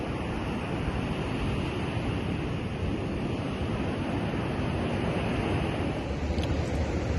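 Waves wash onto a beach in Sardinia with high-rise buildings nearby, a constant broadband roar of surf with some wind buffeting the microphone, steady and fairly loud throughout, with no voices.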